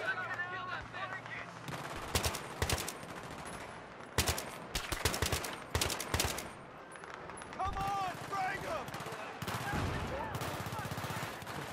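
Battlefield 3 combat brings dense bursts of automatic gunfire and single heavy shots, loud and close, with rapid clusters and brief lulls. A voice talks intermittently over the shooting.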